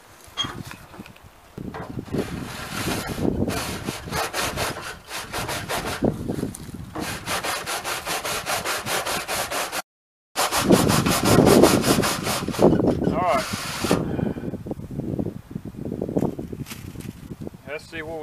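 A brush or scraper grinds through soot inside a wood stove pipe, long rough rubbing strokes repeating close by in bursts, with a short silent gap midway; people talk over parts of it.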